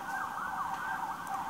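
An emergency vehicle siren wails continuously, its pitch sweeping up and down over low traffic rumble, fairly loud and unbroken.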